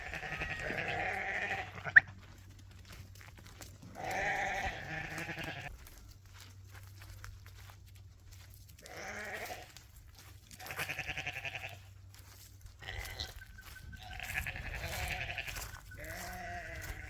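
Sheep on a game farm near Nylstroom bleat repeatedly in loud, wavering calls from several animals at moderate distance, with quiet pauses between them and a faint background hum.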